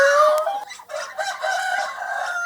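Chickens crowing on a duck and poultry farm, a loud rooster crow rising at the start followed by overlapping calls and clucks from the flock, close by with no talk.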